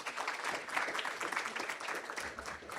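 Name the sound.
applause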